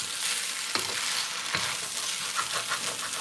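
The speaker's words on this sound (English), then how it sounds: "And we'll just keep stirring this around so it doesn't stick too severely to the bottom." Stir-fried vegetables and pasta sizzle in a pan while a utensil stirs and scrapes across the bottom, giving a steady frying hiss with a couple of distinct scraping strokes, close and moderately loud.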